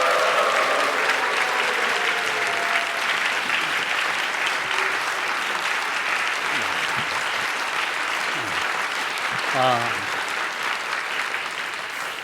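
A church congregation at a Friday evening service claps and cheers steadily and loudly throughout as a missionary comes up to the front, with a brief vocal shout rising above the applause near the end.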